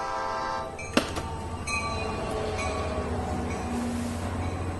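A train rumbles past with a steady low roar and sustained horn tones, a sharp metallic clank early on, no voices.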